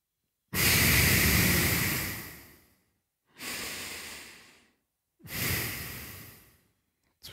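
Slow, deep breaths during a yoga exercise: three long, loud exhalations, each fading out before a short pause, close to the microphone and without talk.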